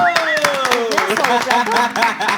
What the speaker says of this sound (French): nous allons souhaiter la bienvenue à notre experte avec des applaudissements